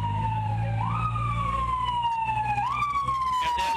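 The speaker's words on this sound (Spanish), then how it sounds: "En estos momentos llegó la ambulancia para ser trasladado los heridos" An ambulance siren wails at the scene of a road accident, its pitch sweeping in repeated slow rising and falling cycles, loud and steady over a low rumble of traffic.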